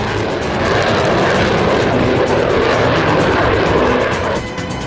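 A Grumman F-14 Tomcat jet with twin GE turbofan engines roars loudly and steadily, a broad, dense rushing noise that holds for several seconds before easing slightly at the end, with no voices.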